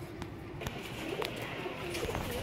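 Soft, low coos from a Lalpari pigeon breeder pair repeat over a steady background murmur, close and continuous for a couple of seconds.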